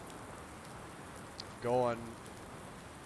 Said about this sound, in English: so it's pouring rain out